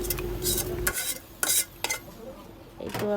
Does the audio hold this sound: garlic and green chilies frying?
yes